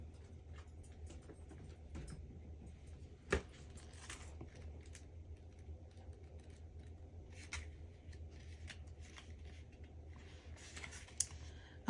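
Quiet typing on a computer keyboard, with scattered soft key clicks and a few sharper taps over a steady low background hum, no voices.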